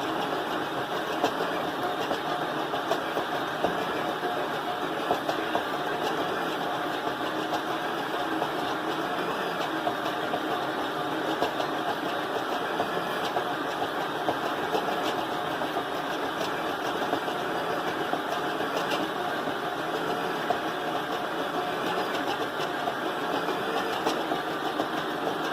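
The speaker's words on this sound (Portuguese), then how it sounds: "o que se recomenda quando você utiliza a batedeira planetária é que você faça na velocidade mais baixa" A planetary stand mixer runs steadily at low speed kneading baguette dough, a continuous mid-pitched motor hum and whir with no change in level across the whole stretch and no voices.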